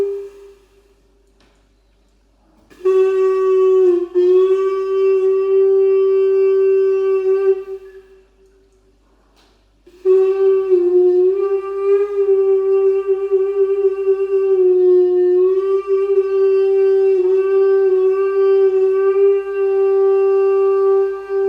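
Sustained breathy tones from a pūtōrino, a Māori flute, playing the song of Pepepe: two long held phrases with a steady pitch and slight wavering, separated by a short pause, clear and close with no voices.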